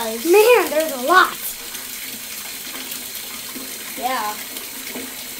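Water pours steadily from a tap into a bathtub, a constant close hiss that runs through the whole stretch while people speak briefly over it.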